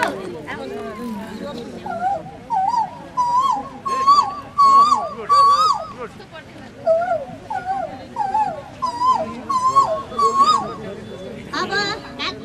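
A human voice imitates the call of an Asian koel, repeating rising whistled phrases in a steady rhythm, loud and close, with short pauses between calls.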